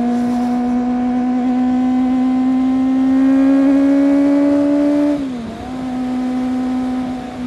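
A Kawasaki ZX25R motorcycle engine runs steadily while riding, its high whining tone climbing gradually, then dipping briefly and recovering, loud and close throughout with no talk.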